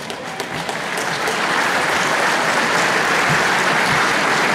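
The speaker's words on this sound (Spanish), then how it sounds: "Un aplauso, por favor." Audience applause at a reunion luncheon, a thick continuous wash of clapping from a large crowd that swells within the first second and holds steady and loud throughout, with no talking.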